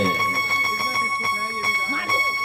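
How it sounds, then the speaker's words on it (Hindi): A small hand bell rings steadily with a sustained metallic tone during a Hindu food offering to the deity, while a person talks over it. "भगवान भोग लगा रहे, घंटी बज रही है"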